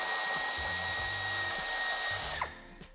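Power tool running continuously while a screw is removed during tow hitch fitting on a 2021 Renault Kangoo III, a loud steady whine that cuts off near the end, leaving a couple of brief clicks.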